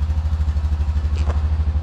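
A Seadoo XP 951 jet ski engine that won't start turns over, making a rapid, rhythmic, low chugging pulse that is close and fairly loud, with a brief clatter partway through.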